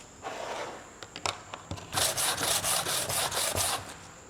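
Sandpaper rubbed along the edges of a soap mould, a dry scratchy rasping that starts as a soft rub, then turns into louder, steady back-and-forth strokes, close and alone.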